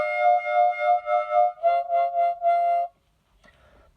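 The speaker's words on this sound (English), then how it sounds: "Or the closed cup, where you cover the whole thing with your hand," A harmonica plays a steady held tone, then a pulsing, wavering section made by opening and closing a cupped hand around it, before it stops and a faint breathy sound follows.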